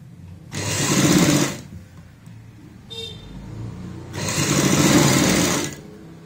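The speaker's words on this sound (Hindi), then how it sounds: "पूरे राउंड में सिलाई कंप्लीट करते हैं।" A sewing machine stitches around the round edge of a girl's party-wear frock in two steady bursts of about a second each, separated by a short pause with a faint click, loud and close.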